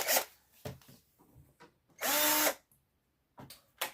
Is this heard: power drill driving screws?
yes